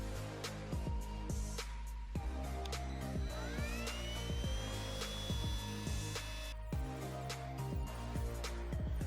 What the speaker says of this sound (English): So I just went around and roughed up the surface with the Dremel and did what I can